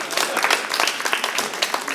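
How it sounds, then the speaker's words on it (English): Clapping rises from a comedy club audience during a stand-up set, a dense, fairly loud burst of applause with uneven peaks and no clear speech. "You can clap for that"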